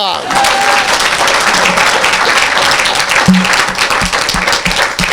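Congregation applauding at a lively evangelical worship gathering, a dense, steady wash of clapping and crowd noise filling the whole stretch, with voices mixed in.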